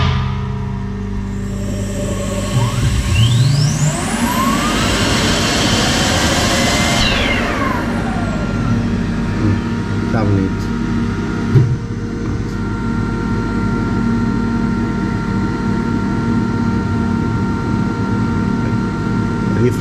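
Turbocharger spun at low speed on a balancing machine: a whine sweeps up in pitch, holds briefly, then winds back down over a steady mechanical hum, close and fairly loud.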